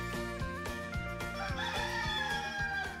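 A rooster crows loudly in a radio station jingle, a clear drawn-out cock-a-doodle-doo rising and falling over a rhythmic musical backing with repeated beats.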